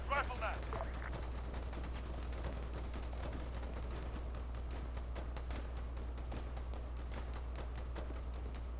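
Machine gun fire in the Arma 3 video game, rapid repeated cracks of distant automatic shots running across most of the stretch, fairly faint over a low constant rumble, with brief voice-like sound near the start.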